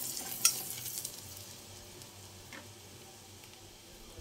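Garlic fries in a pan for chicken momo, a soft, steady sizzle with a sharp clink of a utensil near the start and faint stirring ticks afterward.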